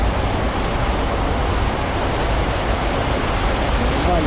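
Heavy rain pouring down on a traffic-choked city road during a motorcycle ride, a dense, constant hiss of downpour filling the air without letup.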